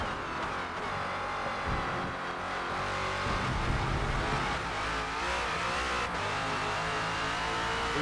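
In Forza Motorsport, the #17 Ford Falcon FG X race car at Road Atlanta roars continuously at high revs, the engine pitch rising and falling through gear changes and corners, loud and sustained without speech.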